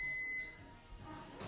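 A kitchen timer goes off during sheet-pan chicken and vegetable cooking, giving a short high electronic beep at the start that stops within half a second and leaves quiet room noise.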